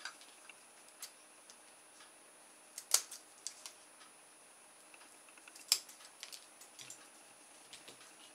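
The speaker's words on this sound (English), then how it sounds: "Right, now we need to cut the middle out." Scissors cut out the middle of a craft piece as a few faint, sharp snips and ticks, scattered irregularly, with two louder clips standing out against a quiet background.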